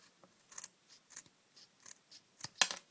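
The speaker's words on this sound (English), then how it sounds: "I'm just going to cut that off with this pair of scissors as close as I can to the strap" Scissors snip through the fabric retainer of a NATO watch strap, close-up, in a series of short crisp cuts spaced unevenly, quiet at first and building to a sharper, louder final snip.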